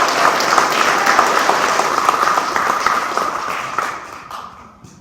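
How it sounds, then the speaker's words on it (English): A board of education meeting audience claps together in a sustained burst of applause that holds steady, then thins and fades over the final second. "Give them a round of applause."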